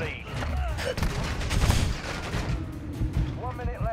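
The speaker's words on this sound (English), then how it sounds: "You hear all those shots." Rapid bursts of gunfire from the Modern Warfare 2 video game, a dense volley of shots over game effects lasting throughout, with a brief chirpy tonal sound near the end.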